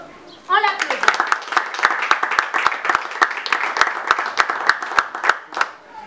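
Scattered hand claps from a small audience at a foundation gathering, a brief spoken word at the start before the clapping rises into steady applause that continues to the end.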